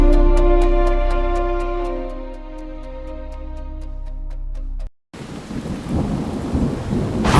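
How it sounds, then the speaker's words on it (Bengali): A thunderstorm with rain bursts in as a dense, loud, steady wash right after a sustained musical tone cuts off, with no voices over it. "বৃষ্টি যেন থামছেই না। একটু পরপর ঠান্ডা ঝাপটা হাওয়া গায়ে লাগছে। মেঘের গর্জন আর বিদ্যুৎ চমকানো আকাশ।"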